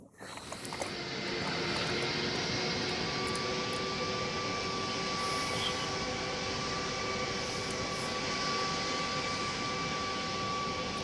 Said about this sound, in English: maybe I'll fly the Boeing 707.